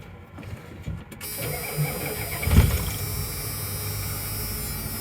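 A truck engine cranks briefly and then catches, settling into a steady idle with a low hum, close and clear with no talking.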